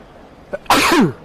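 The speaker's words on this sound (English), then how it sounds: "So I got to sneeze." A single loud, close sneeze from an adult, preceded by a short sharp inhale, then a bright burst that trails off quickly, with no talk around it.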